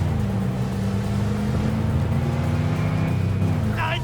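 Steady engine drone of a car driving in Cyberpunk 2077, loud and continuous with a rising whine, ending with a brief screech near the end.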